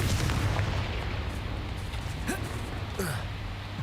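A Confringo fire spell goes off in a video game as a booming blast over a dense, steady rumble of game noise, with faint tonal sweeps trailing after it.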